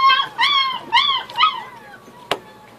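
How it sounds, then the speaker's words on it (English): A puppy close by gives three rising-and-falling whimpering howls in a row, then a short sharp yip, with quiet pauses between. "Pick up a puppy, please."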